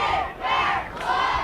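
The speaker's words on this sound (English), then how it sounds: "Fans are cheering, take it back, getting loud." Football fans roaring in the stands at a Chargers vs Pierce City Eagles high school game in 2024, a loud crowd shout that swells, dips and swells again in quick waves.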